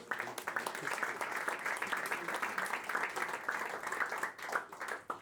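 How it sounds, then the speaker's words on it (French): An audience applauds Philippe Choukroun, president of Alsace-États-Unis, at a tourism medal ceremony in Strasbourg, with dense, sustained clapping from a roomful of people throughout and faint murmuring voices beneath. "Je voudrais qu'on applaudisse Philippe Choukroun, le président d'Alsace-États-Unis"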